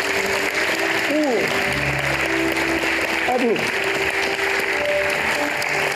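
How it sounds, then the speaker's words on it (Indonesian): A studio audience applauds on the Family 100 game show, steady clapping running throughout while a host talks over it. "Tepuk tangan dong buat kawan-kawan."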